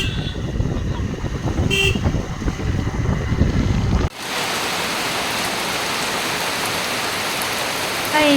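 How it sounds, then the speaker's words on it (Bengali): A heavy downpour of rain near a Durga Puja pandal in India drops as a dense, loud hiss. Rumbling traffic and a short horn toot come through at first, and then the rain fills the rest steadily. "আর এখানে আসার সাথে সাথেই কিন্তু মুষলধারে বৃষ্টি শুরু হয়ে গেছে।"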